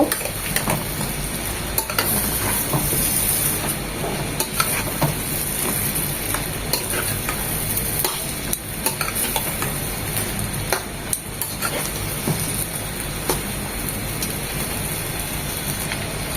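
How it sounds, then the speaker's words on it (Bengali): Long eggplant strips sizzle steadily in hot oil with spices for an Ilish fish chorchori, with a spatula scraping and stirring in the pan and occasional metal clinks throughout. "সেটা দিয়ে দিচ্ছি মশলার সাথে বেগুনটা দু মিনিট কষিয়ে নেব"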